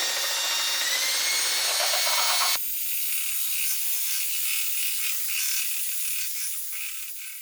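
A battery-powered electric hand mixer whipping cream whirs loudly at high pitch with a buzzy texture, then abruptly shifts to a thinner, quieter whine that slowly fades as the battery runs out.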